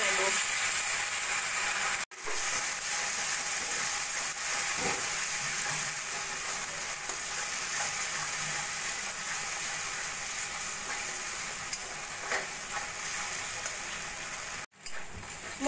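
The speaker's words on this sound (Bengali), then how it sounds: "এবার আমি মশলাটা ভালো করে কষিয়ে নেব।" Salt, turmeric, coriander and Kashmiri chili powder sizzle and fry steadily in oil in a pan for a vegetarian dish, with a continuous close crackle broken by two brief dropouts and occasional scraping stirs.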